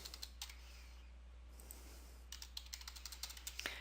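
Someone types an equation on a computer keyboard: quiet, close key clicks in a short burst, a pause, then a longer run of quick, evenly spaced taps over a low steady hum.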